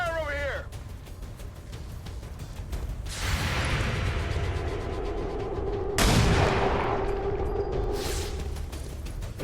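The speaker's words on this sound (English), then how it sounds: "Taking fire over here!" Video game X-COM gunfire: bursts of shots and heavy impacts crack out over a busy battle soundscape, with a loud blast near the middle and voices mixed into the action.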